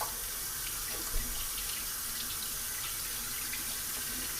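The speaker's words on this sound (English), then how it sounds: "I'm going to wash my hands real quick." A kitchen tap runs steadily while hands are washed during mac and cheese preparation, giving a continuous bright hiss of flowing water with one small splash early on, close and alone.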